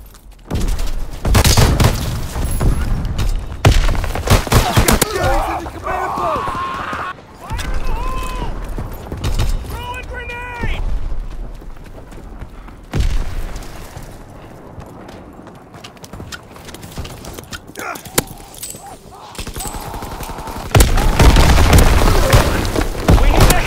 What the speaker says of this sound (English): Tossing grenades!